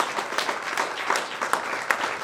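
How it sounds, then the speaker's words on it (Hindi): Hall audience applauding in a dense, sustained wash as guests are welcomed at a community organization event, steady loud clapping throughout with no voices on top. "एक बार खड़े होकर जोरदार तालियों के साथ राम प्रसाद जी भाई साहब और आरएसएस का स्वागत करें"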